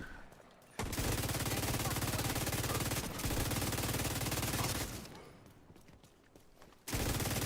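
Sustained automatic gunfire from a weapon in a shooter video game, a loud, rapid continuous burst that briefly pauses, thins out for a stretch, then resumes abruptly at full intensity.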